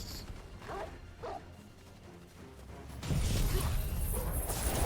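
Wolves bark in a Final Fantasy XVI game scene, two short yelping barks close together near the start, then a louder rush of combat noise takes over.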